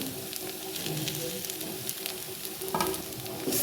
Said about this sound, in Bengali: এবার আমি ভেজে রাখা সুজি দিয়ে দিচ্ছি